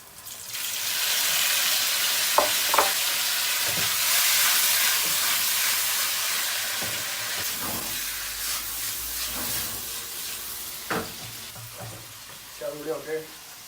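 Minced pork and tofu stir-fried in a wok with scallion, garlic and chili sauce make a loud hissing sizzle that gradually eases, with scattered scrapes and clinks of the spatula and a few light knocks at the end.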